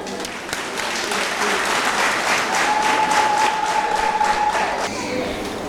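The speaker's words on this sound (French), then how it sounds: "Je vous prie d'applaudir pour toutes les femmes du monde entier." An audience applauds in honour of women around the world, a steady wash of clapping that swells and holds for several seconds, with a faint sustained tone running through the middle.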